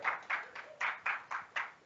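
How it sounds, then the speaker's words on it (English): Quiet, evenly paced clapping at a JoziPug PHP meetup: about seven soft hand-clap bursts in under two seconds, slightly distant and without voices. "Give him a warm round of applause."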